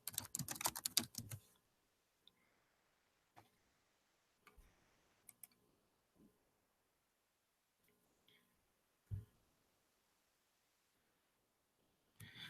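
A computer keyboard is tapped in short, scattered bursts of clicks, with a busier flurry at the start and then isolated keystrokes separated by quiet pauses, faint and close.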